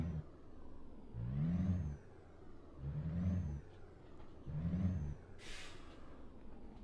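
Three separate engine revs from a DAF XF 105 truck in Euro Truck Simulator 2, each swelling and dropping back to idle, followed by a brief hiss of air near the end.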